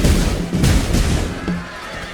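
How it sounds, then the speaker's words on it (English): Battle din in Empire Total War with horses neighing amid charging cavalry and gunfire, loud and continuous, a brief bright whinny rising near the middle over dense rumbling clash. "Horses are coming in!"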